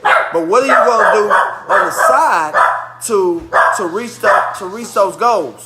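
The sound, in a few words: dog barking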